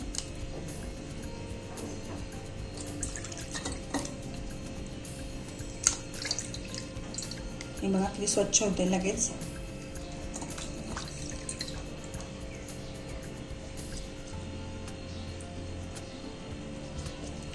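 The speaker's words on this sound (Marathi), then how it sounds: "नुसतं पाण्याने चोळायचं" Water drips and splashes softly while deity idols are rubbed and scrubbed with plain water; someone speaks briefly over the washing sounds.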